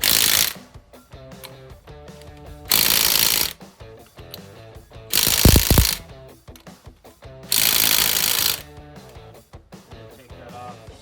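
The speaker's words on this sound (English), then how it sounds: "Use your lug nut wrench to get it nice and snug" A wrench ratchets on the lug nuts of a 2011-2014 Mustang front wheel, several close bursts of rapid metallic clicking separated by short pauses, with no talk.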